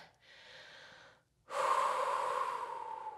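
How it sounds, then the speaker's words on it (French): Audible breathing during a yoga flow class, a softer steady exhale followed by a brief pause, then a louder, rushing breath that carries on to the end, heard up close with no talking. "Respire sur place. On calme la respiration."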